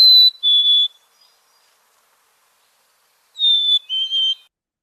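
Black-capped chickadee song: two pairs of clear, pure whistled notes, a high note then a slightly lower one, separated by a pause of silence; close and loud.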